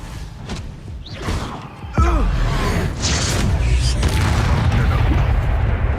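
Confringo spell blast in Hogwarts Legacy, a sudden loud booming explosion followed by a sustained rumbling roar, with a shouted voice just before it.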